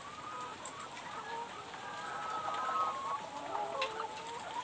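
Many laying hens in a three-tier battery cage house holding over 800 birds cluck and chatter together in a dense, steady din, with no talking.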